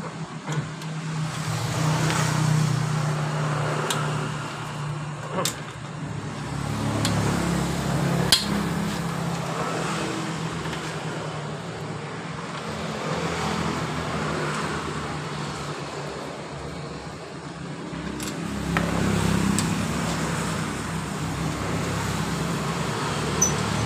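A Yamaha Mio Fino scooter engine, running hot and misfiring, sputters unevenly at close range, with sharp metallic knocks and clanks breaking in now and then over a steady low rumble.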